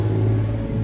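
A car pulls away at the start of a driving road test in the USA, its engine a steady low hum and rumble, close and even throughout the short moment, with no speech.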